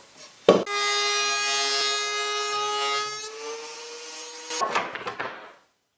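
A wood planer runs on butcher block lumber, a steady loud whining hum for about three seconds that cuts off, followed by a few knocks and rattles.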